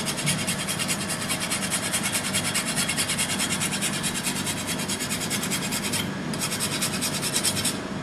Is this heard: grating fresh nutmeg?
yes